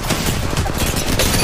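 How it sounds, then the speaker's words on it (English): Dense video game gunfire during a combat round, with bursts of rapid shots rattling continuously and loudly, like a fusillade, over the busy mix of a firefight. "I am taking fire."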